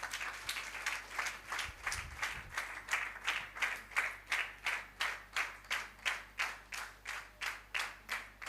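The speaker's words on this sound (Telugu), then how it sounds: "చప్పట్లతో వారిని ఆహ్వానిద్దాం" A gospel revival meeting audience claps in steady unison to welcome a singer to the stage, with evenly spaced claps repeating about twice per second for the whole stretch at moderate loudness.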